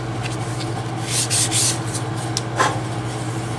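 Short rubbing strokes of 400 grit sandpaper smoothing the edge of a leather bifold wallet, close and steady over a low background hum, with a few louder bursts of scraping.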